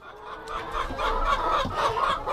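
A hen in a coop nesting box clucks in low, repeated throaty bursts that grow louder, close by and heard alone.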